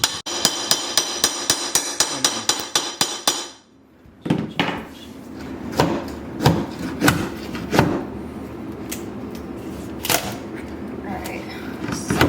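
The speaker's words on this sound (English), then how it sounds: "We got a hammer." Hand hammer strikes in repeated, uneven blows, loud and close, following a brief burst of fast rattling and a pause, with people talking over the hammering.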